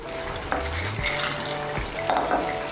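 Fried lentil dumplings and green chillies are mixed into a pumpkin, potato and drumstick curry, with a few close metal spoon clanks and scrapes against the pot over a soft sizzle.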